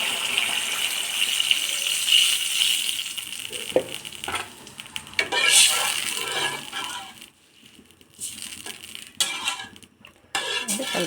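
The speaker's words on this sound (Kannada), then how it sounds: "ಸ್ವಲ್ಪ ನೀರು ಹಾಕೋಣ." Water poured into a pot of sambar made with MTR sambar powder, a steady rushing pour near the mic that breaks off and resumes in spurts, with sizzling and stirring around it and no talk.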